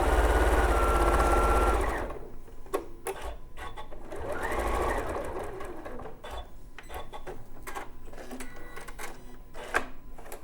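A domestic sewing machine stitching quilt pieces from a kit runs at a steady, fast mechanical clatter for about two seconds, then gives short bursts and isolated clicks at close range.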